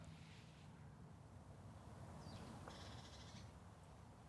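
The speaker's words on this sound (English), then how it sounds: "you end up hearing the birds" Birds call in a quiet pedestrian street area of Oslo, with a few faint chirps standing out over a steady low background hum of the city.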